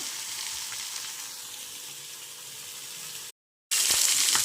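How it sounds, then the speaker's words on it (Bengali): Potatoes frying in oil give a close, dense, hissing sizzle that runs evenly, breaks off briefly in silence, then returns just as strong. "তো ভাজা খুব সুন্দর ভাজা হচ্ছে"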